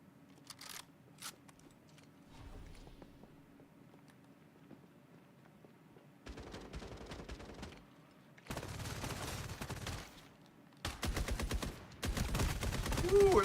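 Bursts of video game gunfire from a heavy-recoil gun, quiet at first, then several loud rapid-fire volleys in separate clusters, with a little faint speech near the start.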